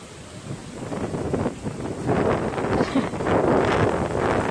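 Strong typhoon wind in the New Territories of Hong Kong during a signal 8 storm roars and buffets the microphone in continuous gusts that swell louder toward the end.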